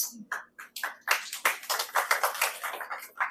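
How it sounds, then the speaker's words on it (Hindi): Applause at an Independence Day celebration event, heard as a quick run of sharp, close claps, a few scattered at first and then thickening into a brisk, uneven rhythm, fairly quiet overall. "जोरदार तालियां बजाइए"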